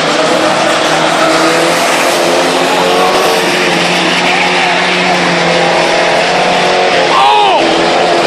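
A race truck slides sideways at a crash-derby truck and boat race, its tires squealing over a loud, continuous roar of engines and crowd noise, with voices mixed into the din.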